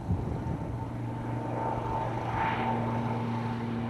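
Light propeller plane droning steadily overhead in Alaska, a continuous engine hum with a low tonal buzz that swells slightly as it passes, no voices.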